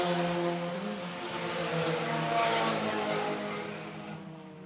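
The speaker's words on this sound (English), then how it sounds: "extends that lead down the back straightaway over Liebhardt." Sport compact race cars roar down the back straightaway at a dirt raceway, engines droning loudly and swelling as they pass, a steady stretch of racing noise with no talk over it.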